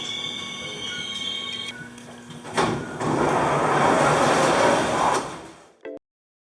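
A Seoul Metro subway train pulls into a station with a loud, close rumble, squealing wheels and ringing rail noise. A short chime sounds first, then the roar builds and stops abruptly, and a brief door sound follows.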